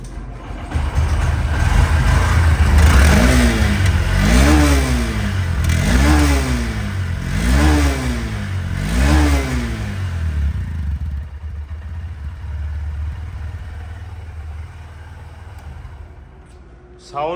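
A Honda SP 125 FI motorcycle engine idles, then revs up sharply four times in a regular rhythm, each rev rising and falling, before settling back to a low idle.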